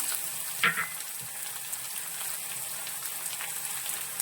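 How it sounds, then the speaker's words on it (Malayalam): Mustard seeds, cumin and onion fry in hot oil for a beetroot pachadi, giving a continuous crackling sizzle with a few brief spatters and pops near the start. "നമ്മൾ ഈ കടുക് താളിക്കുന്ന കൂട്ടത്തിലേക്ക് നമ്മളൊരു രണ്ട് മൂന്ന് ജീരകം ചെറിയ നല്ല ജീരകം അതായത് ചെറിയ ജീരകം കൂടി ചേർക്കുന്നുണ്ട്"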